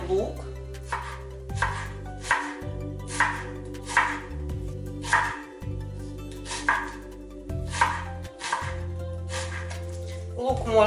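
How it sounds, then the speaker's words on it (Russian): A knife chops onion on a board in a kitchen, with regular rhythmic strokes repeating about every second, close and clear over a low background hum. "Нарезаю лук."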